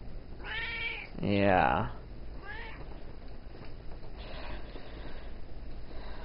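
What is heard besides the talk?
Bombay cat meowing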